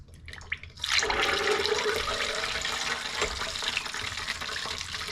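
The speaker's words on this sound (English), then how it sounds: "Look at all those impurities are being boiled out of there." LS1 pistons from a 1992 Chevy C1500 build boiling in a pot of water for cleaning, a loud continuous bubbling roar that surges in after a quiet start, with no voices.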